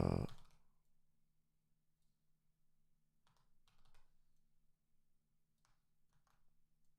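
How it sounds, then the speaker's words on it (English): Keys clatter on a computer keyboard in short bursts of fast typing, faint and close, after a loud opening thump, with quiet gaps and a low steady hum underneath. "Typing as fast as I can."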